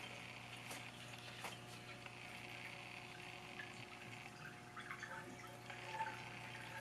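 A self-filling water dish drains steadily with a low, faint pump-like hum and soft trickling, continuous and fairly quiet throughout.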